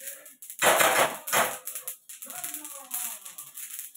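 Peanuts roasting in a pan, sharp rattling pops and clattery bursts, loudest in a couple of close clusters early on and then continuing as lighter scattered ticking.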